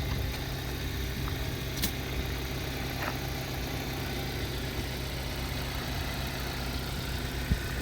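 A 2015 Hyundai Sonata at a police auction idles after a jump start, a steady low engine hum with faint mechanical ticks, close and continuous.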